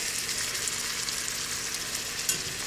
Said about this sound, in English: Today I'm cooking them with a little bit of vegetable oil, a little bit of margarine or butter in the pan.